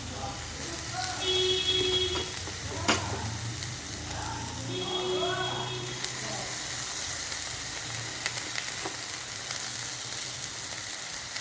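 Ginger paste hitting hot oil in a pan for Malia chicken, frying with a steady close sizzle and crackle that swells into a brighter, louder hiss partway through, with occasional stirring clinks.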